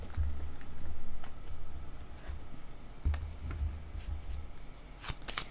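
Tarot cards shuffled by hand in a quiet room, a steady papery riffling that keeps going, with a few sharper flicks and taps toward the end and no talking.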